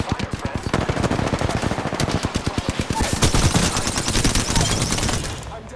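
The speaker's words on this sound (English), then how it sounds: "I am taking fire, friends." Sustained automatic gunfire in the Apex Legends battle royale game on PS4 Pro, rapid dense bursts of shots continuing without pause, loud and close, with faint voice lines in the mix.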